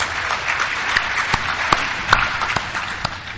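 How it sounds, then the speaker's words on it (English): A crowd at an Alcoholics Anonymous roundup meeting applauds after a speaker marks his sobriety date, steady hall applause punctuated by a few sharp, distinct individual claps. "if you're new and you hear this applause"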